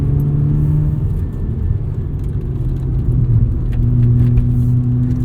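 A 1990 Mazda RX-7 FC rotary engine revs up toward 7,000 RPM from inside the car, a steady, loud, buzzing drone with a rising pitch and road rumble, and no talking.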